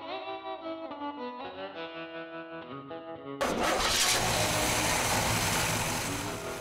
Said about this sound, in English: both these beauties are powered by the same 371 cubic inch rocket V8